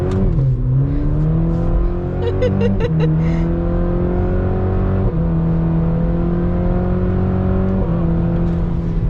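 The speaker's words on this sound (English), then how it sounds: "It makes a lot more torque than it does horsepower, but it just motors on up. You get those satisfying shifts." A 2021 Cadillac CT4-V accelerating hard, its engine note rising steadily then dropping sharply at each upshift, several shifts in a row, loud and close from inside the car.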